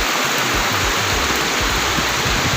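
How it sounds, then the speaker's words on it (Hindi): Kiwai waterfall in Kaghan Valley, a loud, continuous roar of rushing, splashing water up close, steady throughout with a bright hiss and low churning underneath, no voices. "तो हम किवई वाटरफॉल पर हैं इस वक्त"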